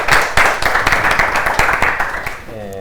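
A lecture audience claps after a talk on the theory of critical distances, brisk applause that starts strong and thins out over a couple of seconds before a voice begins speaking.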